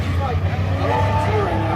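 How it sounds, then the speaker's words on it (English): A car at LS Fest revs in a steady, loud engine drone during a failed burnout attempt, with crowd chatter and a voice heard over it throughout. "He's trying to do a burnout here and he just kind of failed."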